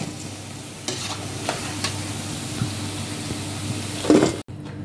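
Veg kola balls frying in hot oil give a steady soft sizzle, with a few stirring scrapes and a brief louder splash near the end.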